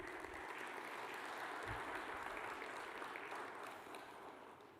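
An audience at an Indo-French investment conclave in Hyderabad applauds a panelist, a steady, fairly distant roar of many hands clapping that holds for nearly five seconds, with a couple of low thumps near the start.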